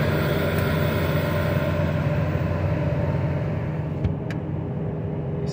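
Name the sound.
Ford F450 Powerstroke diesel engine at high idle during exhaust filter clean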